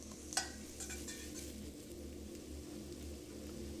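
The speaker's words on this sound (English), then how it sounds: "we're gonna saute these for 2 to 3 minutes" Shallots, garlic, ginger and lemongrass sautéing in a pan, a faint steady sizzle with an early clink of a utensil against the pan.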